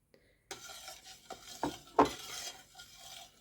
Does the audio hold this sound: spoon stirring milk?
yes